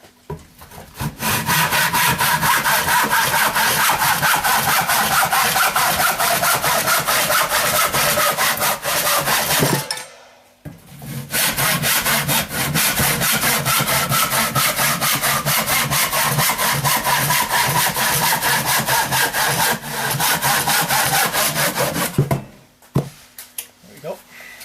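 A hand saw cuts pieces of wood for an axe jig in fast, rhythmic back-and-forth rasping strokes, close and loud, in two long sawing runs separated by a brief pause.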